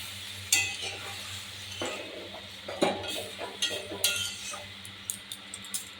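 Ribbonfish curry broth bubbles in a pan at a steady low roar, with a few sharp utensil clinks and stirring taps scattered throughout.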